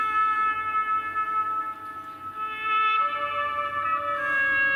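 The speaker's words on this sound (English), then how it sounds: "this is the sound of our oboist who guarded the church" An oboe plays a sustained melodic line inside a church, bright reedy tones holding long notes over a faint low hum, moderately loud and unaccompanied by speech.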